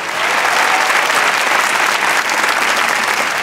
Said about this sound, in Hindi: तालियां बजाएं भाई।